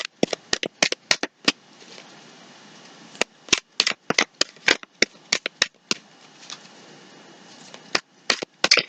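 Tarot cards snapped and slapped down during a reading, sharp crisp clicks in irregular bursts, some rapid clusters and brief pauses, close and fairly loud with no talking.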